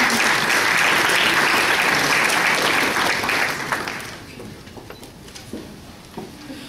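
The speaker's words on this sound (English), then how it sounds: "please give a round of applause for our next two speakers" Audience applause for speakers at an academic talk: dense clapping fills the room for about four seconds, then thins to scattered claps and fades as the hall quiets.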